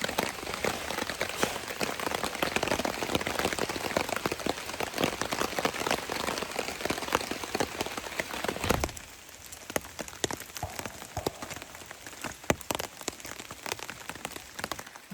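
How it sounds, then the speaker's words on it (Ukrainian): Steady rain patters densely on surfaces nearby in a forest, a continuous wash of drops that softens a little toward the end. "На вулиці дощ іде."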